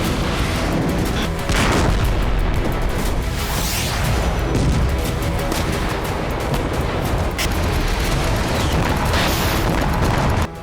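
Heavy bombardment and missile fire on Israel from proxy groups rumble continuously as dense, loud booms and cracking gunfire-like blasts that overlap with no break in the din.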